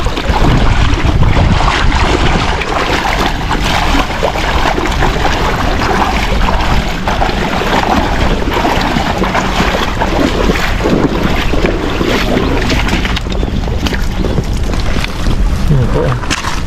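Strong seaside wind buffeting a microphone by the shore, a constant loud roar with gusty rumble throughout, and faint voices underneath.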